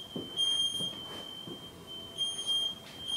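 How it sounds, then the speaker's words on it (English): Several household smoke detectors sound at once, thin high-pitched electronic tones held in repeated bursts, with some soft shuffling noise in between. "We'll see which one's still beeping."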